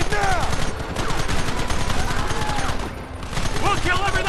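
Dense gunfire crackles through a Red Dead Redemption shootout, a steady barrage of overlapping shots with shouting voices and brief whistling sounds over the top.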